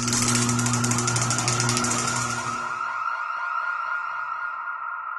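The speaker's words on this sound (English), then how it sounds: "When Yella laid his hand on the scanner, an annoyingly loud alarm was triggered." A loud electronic alarm set off by a hand scanner at a security checkpoint wails with a steady tone and siren-like warbling, strongest in the first half before thinning out, with no voices.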